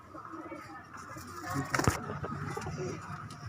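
A red female pigeon of a Punjabi fancy breed, with yellow eyes and a waxy beak, coos softly at close range. Murmuring voices and light rustling sit around the coos.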